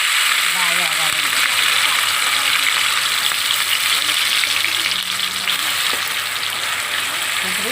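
Onions frying in hot oil in a pan, a steady, loud sizzle with constant crackle that runs the whole time, with a few faint stirring knocks now and then.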